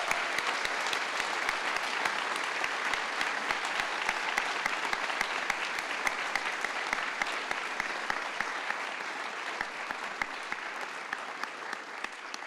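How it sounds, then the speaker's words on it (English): Audience applause at a university optical sciences pre-commencement celebration, a sustained wash of many hands clapping with some sharper individual claps standing out, slowly tapering toward the end. "So one more round of applause for all of us here."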